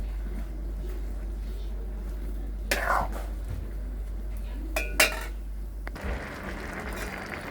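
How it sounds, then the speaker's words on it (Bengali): A pot of banana-stem mixed vegetable curry being stirred, with a few sharp metal scrapes and clinks of a spoon against the pot over a low steady hum and a quiet background. "নেড়ে চেড়ে দেব।"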